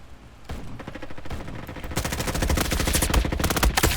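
Rapid MP5 submachine gun fire in the Roblox shooter Frontlines, close and loud, with short bursts that swell into sustained rattling automatic fire over a game soundscape, no talk.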